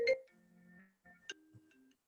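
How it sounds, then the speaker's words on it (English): A phone ringtone plays a short, clear melody of electronic tones during a discussion of the graduate school application process. It sounds close and moderately quiet, with no talk over it. "that just your phone, Jackie, or do you have it?"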